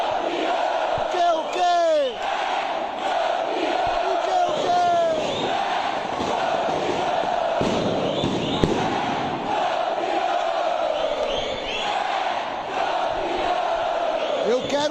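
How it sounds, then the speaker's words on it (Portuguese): Corinthians supporters roar their traditional chant at a Copa do Brasil title celebration, a loud, dense crowd of voices shouting and whooping continuously, with a brief spoken question near the start. "O grito tradicional agora."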